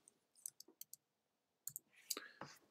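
Someone typing on a keyboard and clicking a mouse while entering invoice details: a quiet string of sharp, close clicks and keystrokes in two short bursts, with soft speech faintly underneath.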